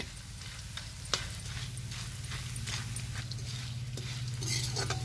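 Urad dal frying in a pan with onion for tinda bhujia gives a steady close sizzle, with occasional scrapes and clinks of a spoon stirring through it.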